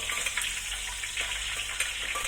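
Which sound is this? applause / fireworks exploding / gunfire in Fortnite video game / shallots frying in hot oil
shallots frying in hot oil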